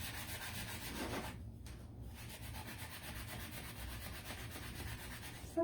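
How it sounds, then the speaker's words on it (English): A nearly new sanding block rubs back and forth across wood in soft, close, continuous scratchy strokes, quiet overall with a brief pause partway through. "It's like almost a brand new sanding block, but it's just not the best."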